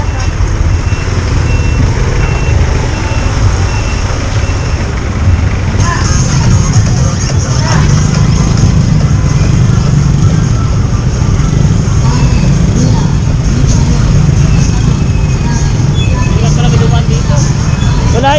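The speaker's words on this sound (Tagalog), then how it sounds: "Grabe traffic yan." Heavy road traffic in Makati, loud and close, with a continuous rumble of trucks, cars and buses, repeated reversing beeps, and people talking over the noise.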